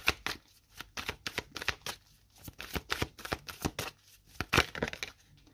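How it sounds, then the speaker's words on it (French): Tarot cards are drawn and shuffled in quick, close riffling bursts, a dense run of sharp flicks and slaps that keeps going without a break for over five seconds, with no one speaking. "on va prendre une carte supplémentaire"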